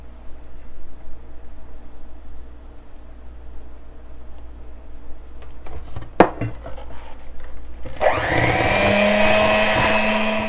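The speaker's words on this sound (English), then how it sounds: "I'm going to start mixing it in with my mixer" An electric mixer whirs up loudly and continuously after a quiet stretch with a sharp clink, beating powdered sugar into Oreo cream cheese frosting close by.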